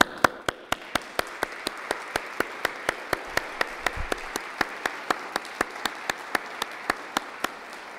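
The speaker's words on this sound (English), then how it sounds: "please join me in just asking the faculty to stand and having the students just applaud them." Students clap for faculty at a school awards celebration, the clapping sharp and evenly paced like a single steady rhythm, carrying on without a break and with no voices over it.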